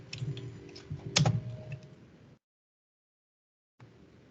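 Quick bursts of keystrokes on a computer keyboard while text is entered in 3ds Max, a close clatter for about two seconds, then silence and a faint return of sound near the end.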